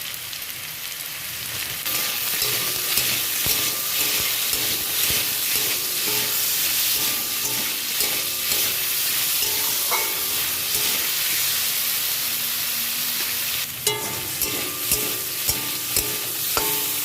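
Potatoes sizzle in a pan with a little salt while an okra curry is being made. A close, continuous frying hiss lasts throughout, with occasional clinks and scrapes from stirring and no voices.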